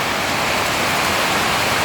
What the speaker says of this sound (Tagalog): Biglang lumakas yung ulan dito sa Dait